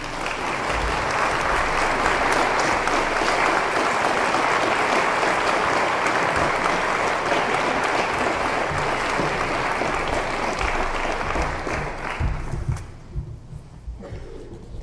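An audience breaks into sustained, dense applause to welcome two speakers to the podium, many hands clapping steadily for about twelve seconds before tapering off into scattered claps.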